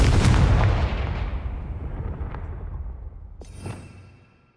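A Confringo fire spell blasts in the Hogwarts Legacy video game: a loud explosive boom at the start that rumbles and fades, then a second smaller burst and whoosh near the end, with no talk.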